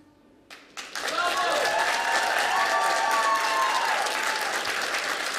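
A television talent show final audience breaks into sustained, loud applause after a song, with cheering mixed in. The clapping builds quickly within the first second and then holds as a dense, even roar.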